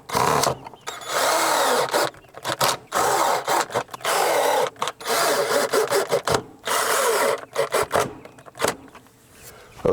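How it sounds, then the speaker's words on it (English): Power drill driving screws into a wooden deck outdoors, whirring in repeated bursts separated by brief pauses, loud and close with no talking. "we got as many screws that we could get into the deck here"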